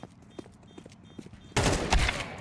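Rifle gunfire in a Counter-Strike match, quiet in-game sounds first and then a loud, dense burst of shots erupting halfway through and continuing to the end.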